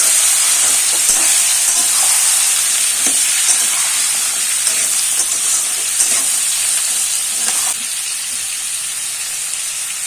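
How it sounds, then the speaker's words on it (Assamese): Steady, dense sizzling of pumpkin frying in a hot pan, a constant bright crackle with occasional soft scrapes, no voices. "প্ৰথমে ৰঙালাওখিনি ভাজি ল'ম"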